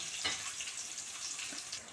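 Green chillies fry lightly in oil, giving a faint, even sizzle with a couple of soft crackling pops.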